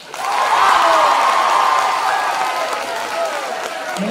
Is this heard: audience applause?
yes